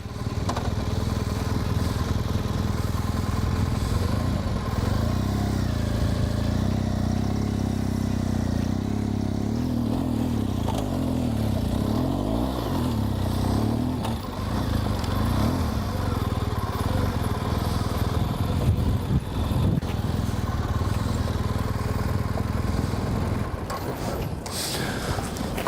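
An adventure motorcycle in enduro mode, rear wheel spinning, climbs a hill with a steady loud engine drone that wavers and stumbles as revs rise and fall, close and continuous throughout.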